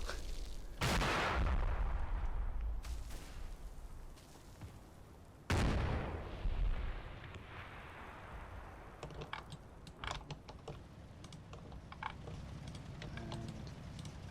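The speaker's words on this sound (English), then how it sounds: "now that one's getting mortared as well" Mortar rounds slam into a jeep and its ammo in a war video game, two heavy booming blasts a few seconds apart, followed by scattered crackling pops and smaller bangs as the wreck burns.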